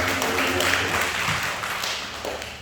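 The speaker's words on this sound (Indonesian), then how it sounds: "Tepuk tangan buat Tuhan kita." A church congregation at a combined Easter service claps together, a steady wash of applause that tapers off slightly, with a few sustained tones and faint voices underneath.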